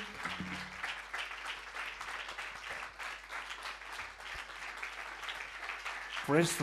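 A church congregation at a Sunday sermon claps loudly and steadily, a dense wash of applause running throughout, with a voice briefly rising over it near the end.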